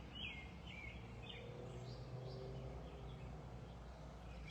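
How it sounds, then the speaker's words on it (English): Birds chirp faintly outdoors during a walk, small scattered calls sitting over a steady low rumble of background noise. "Listen to the birds."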